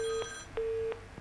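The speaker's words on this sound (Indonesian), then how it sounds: "kita akan angkat telepon yang ingin bergabung" Telephone ringback tone on a call-in radio show line: two steady beeps separated by a short gap, moderately loud and heard alone.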